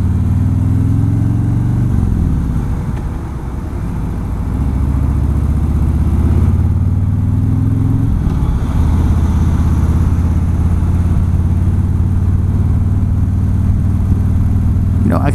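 Harley-Davidson motorcycle engine heard while riding, a loud, deep, continuous rumble with the pitch climbing through gear changes, close and dominant, with some wind noise.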